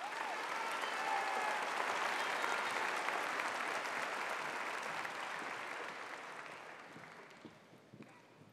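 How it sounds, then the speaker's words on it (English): Sustained applause from a large audience at a 2016 high school commencement ceremony, steady and full for several seconds before gradually fading out with a few scattered final claps. "Let's give these very important people a round of applause."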